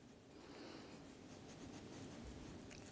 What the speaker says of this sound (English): And I'm using pencil crayon,